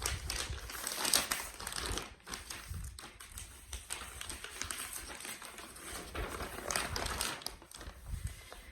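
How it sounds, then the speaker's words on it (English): Paper crinkles and rustles continuously and fairly close while cross-stitch projects and framing are handled, with scattered sharper crackles and no speech. "I'm sorry about all the paper noise once again."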